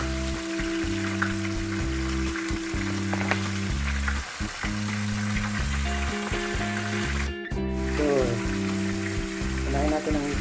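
Vegetables for Filipino pakbet sautéing in a hot pan, a steady crackling sizzle under background music, with no voice.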